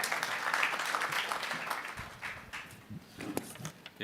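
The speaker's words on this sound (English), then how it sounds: "Round of applause." Applause from the audience at a sustainable energy week conference session, a moderate patter of many hands that thins and fades over a few seconds.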